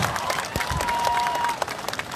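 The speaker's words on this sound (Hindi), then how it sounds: "ज्यादा तालियां बजानी पड़ेंगी आपको।" An audience at a poetry recital claps in a short burst of mixed, uneven applause with some crowd murmur, tapering into a few scattered claps near the end.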